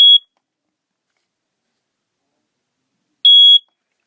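First Alert smoke alarm giving two short, sharp high-pitched beeps about three seconds apart, loud and close, with silence between them.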